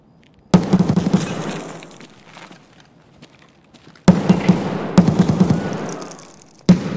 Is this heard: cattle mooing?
no